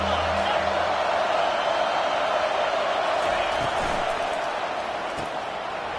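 Stadium crowd roars steadily in College Football 25 during an ASU vs LSU game, a dense, constant wash of cheering that holds at a loud level throughout, with no clear breaks.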